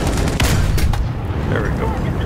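A tank cannon fires in the video game War Thunder, a loud booming blast early on followed by a second report and a rumbling decay, with a muffled, heavy low end.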